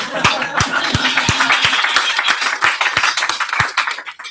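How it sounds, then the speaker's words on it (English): A small group claps at a training session, with sharp separate claps at an uneven rhythm rather than a dense ovation, fairly close and steady throughout. "Round of applause."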